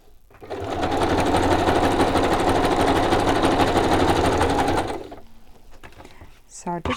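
A sewing machine runs steadily for about four seconds stitching fabric, a loud continuous mechanical whir that then stops, followed by a few faint handling clicks and a short rattle.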